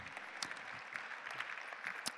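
Audience applause at a hall of fame gala, a steady wash of clapping hands from a crowd at moderate distance, continuous for a couple of seconds with no talk.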